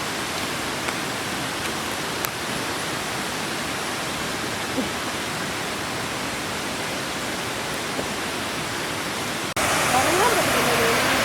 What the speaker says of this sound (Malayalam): അങ്ങനെ നമ്മൾ പനംകുടന്ത വെള്ളച്ചാട്ടം കാണാനെത്തി